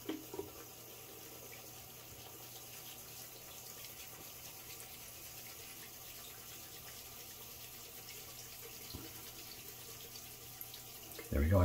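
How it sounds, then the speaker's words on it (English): Running tap water flows steadily and softly as a shaving brush is rinsed in a bathroom sink, a faint even wash with a slightly louder splash at the end. "Bear with me, I'm just rinsing out the brush."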